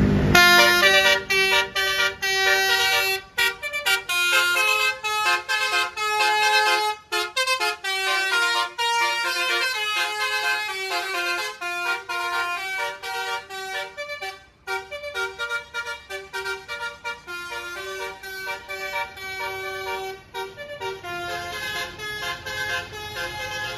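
A PO Garuda Mas Bintang bus departs a terminal in Purwodadi, its musical multi-tone horn playing a loud, continuous melodic honking sequence up close for over twenty seconds.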